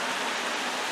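Heavy rain pours outdoors in spring, a steady dense hiss with no breaks, fairly faint and unaccompanied by voices.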